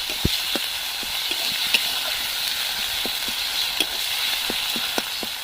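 A ground cumin and coriander paste cooks down with tomato paste in a pan for a rohu fish curry, hissing in a constant bright sizzle while a spoon scrapes and taps the pan at irregular intervals.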